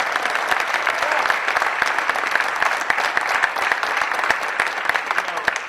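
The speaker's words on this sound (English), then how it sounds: "I wanted to give the women's team and Coach a round of applause" Sustained applause from a press conference audience honoring a university women's basketball team and their coach, dense steady clapping at moderate distance, continuous throughout with no break.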